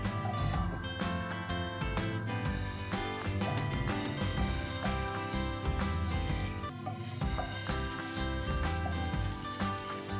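A large onion, sliced long and thin, fries in hot oil with a pinch of asafoetida for vegetable korma, making a loud, dense, continuous sizzle and crackle that runs throughout with no talking.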